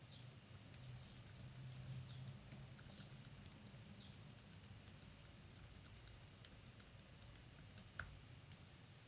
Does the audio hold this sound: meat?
no